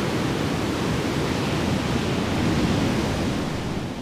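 Winter surf breaking along the North Sea coast of Sylt, a continuous broadband roar of waves and wash, steady and close, with no voices.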